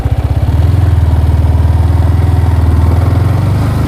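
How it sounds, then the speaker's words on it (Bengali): Close and loud, a motorcycle engine pulls away in first gear as the clutch is eased out, a deep, steady rapid thumping that rises slightly in pitch, alone without speech. "যখন ক্লাচটা আস্তে আস্তে ছাড়বো, এদিকে অ্যাক্সেলারেটর আস্তে আস্তে বাড়াবো।"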